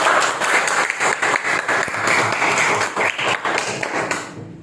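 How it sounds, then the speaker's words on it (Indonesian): Students in a classroom clap together for a classmate in a continuous burst of close, uneven applause that stays lively for several seconds and then stops. "tepuk tangan buat anak"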